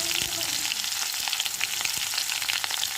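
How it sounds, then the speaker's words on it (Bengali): Panch phoron, ginger and green and dried chillies frying in hot oil in a kadai give a bright, continuous crackling sizzle, close and even, with light stirring knocks. "কড়াইয়ে দিয়ে দিয়েছি তেল, দিয়ে দিলাম 5 ফোড়ন, দিয়ে দেবো আদা ও কাঁচা লঙ্কা, শুকনো লঙ্কা"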